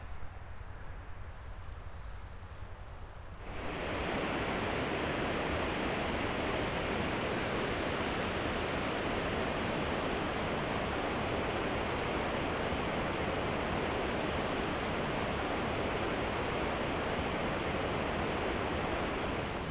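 Low Force waterfall on the River Tees roars as a steady, loud broadband rush of falling water, starting abruptly a few seconds in after a quieter opening and continuing unbroken to the end with no voices.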